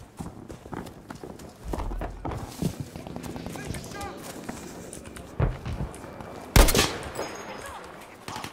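Gunfire in the video game Battlefield V on Wake Island during Breakthrough mode, with scattered shots and bursts, the loudest near the end, heard under ongoing in-game combat noise and shouted voices.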